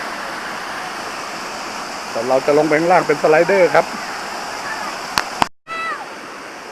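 Lan Rak waterfall in Nakhon Nayok pours in a loud, steady rush of falling water that fills the whole scene, while someone speaks over it partway through.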